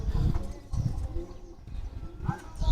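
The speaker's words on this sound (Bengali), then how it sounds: "খুব সুন্দর একটা কবুতর এটা" Giribaz pigeon cooing close by in a few soft, low, throaty bursts, with faint background noise between the calls.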